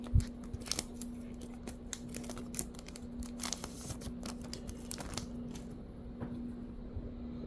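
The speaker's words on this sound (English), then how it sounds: "I'm just going to go ahead and trim this" Scissors trim a Donruss baseball trading card up close. Rapid, crisp snipping cuts come in an irregular run over a faint steady hum, with no talking.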